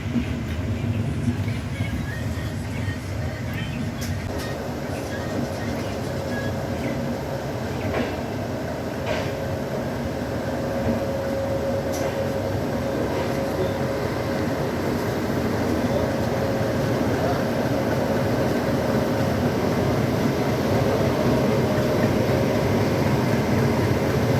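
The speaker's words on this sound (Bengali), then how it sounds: "এখন আমাদের ট্রেন পৌঁছেছে শিয়ালদা স্টেশনে।" The Puri–Sealdah Duronto Express rolls into Sealdah station with a continuous heavy rumble and rattling wagons, a steady loud drone lasting the whole stretch, with a faint voice now and then underneath.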